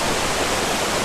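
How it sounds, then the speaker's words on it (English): A waterfall in Jomotshangkha, Bhutan, pouring as a dense, steady, loud hiss of rushing water, unbroken and with no voices. "So this is the one of the beautiful waterfall that is here in Jomotshangkha."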